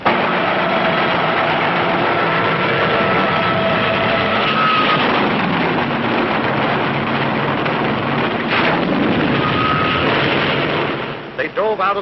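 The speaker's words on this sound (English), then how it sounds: "Hundreds of land-based planes streaked low over the sea at our carriers." Land-based war planes roar low over the sea in a sustained, loud engine drone with bursts like gunfire, over about twelve seconds, with a voice speaking throughout.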